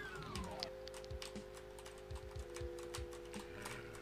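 Computer keyboard arrow keys tapped while playing The Ultimate Doom, with soft irregular clicks repeating in a steady rhythm over a constant electronic hum and faint game sounds.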